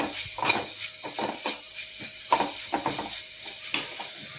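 Garlic ginger paste fries in a pan under repeated stirring: a soft continuous sizzle broken by sharp scraping strokes of a spoon against the pan at an irregular rhythm.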